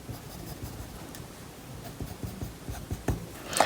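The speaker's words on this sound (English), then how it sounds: "you could just do some cross hatching" Pen cross-hatching lace texture on paper, a run of quick scratchy strokes in irregular bursts, close and fairly clear, with no voice.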